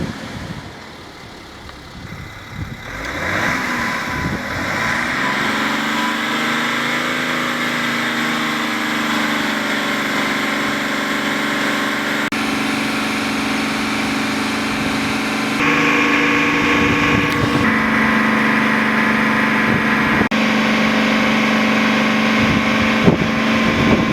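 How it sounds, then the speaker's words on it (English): A car engine is started and revved after a DPF soot cleaning, then held at steady mid revs to dry out the cleaner, a loud continuous drone that climbs and shifts pitch across about twenty seconds. "you then start the car and give it some revs, also holding it mid-revs to dry out the remains of the cleaner"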